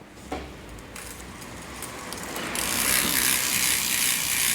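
A DT Swiss H1900 rear hub freewheel ratchets close by as it spins, a fast buzzing click that grows louder and denser, with no talk.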